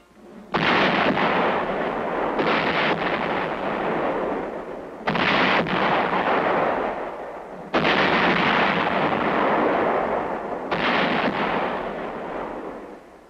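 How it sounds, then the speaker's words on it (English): 24th Division Artillery howitzers firing on Hill 584 in Korea: four heavy, loud blasts spaced a few seconds apart, each a sharp crack followed by a sustained rolling rumble. "24th Division Artillery prepares to open fire on Hill 584"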